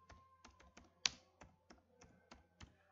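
Keystrokes on a computer keyboard while typing JavaScript code, a quick irregular run of close, crisp taps with one sharper, louder key strike midway, heard alone without talk.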